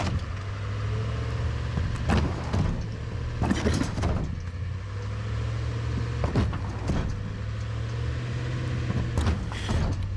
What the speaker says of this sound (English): They're lifting the vehicle, biting into the ice, and moving it forward